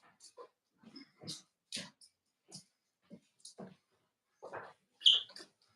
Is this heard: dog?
yes